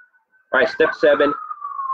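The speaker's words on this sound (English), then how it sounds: "apologize for the sirens there in the back." A siren wails steadily in the background, a thin sustained tone that drifts lower, while someone talks loudly over it close to the microphone.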